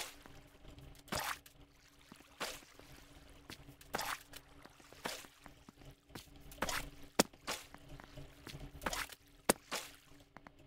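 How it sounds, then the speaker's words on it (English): Water being filled in within a building game, heard as a series of soft splashy bursts and trickles repeating every second or so at low volume, with no talking. "So we'll fill this up with water."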